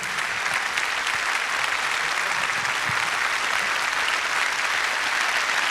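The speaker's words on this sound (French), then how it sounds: "On applaudit Tamara encore une fois," An audience at the Les Voix de l'Océan Indien 2017 event applauds Tamara, with dense, sustained clapping from a large crowd that holds steady from start to finish.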